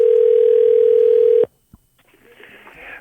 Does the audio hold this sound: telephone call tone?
yes